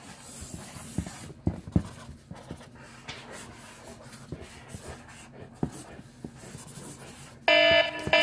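A timer alarm goes off with a short burst of bright electronic beeping at the very end, after quiet scratching from quick drawing and brief voices.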